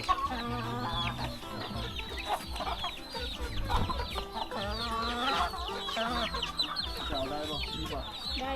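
Several chickens cluck and chatter continuously close by, a busy overlapping farmyard chorus with occasional louder squawks.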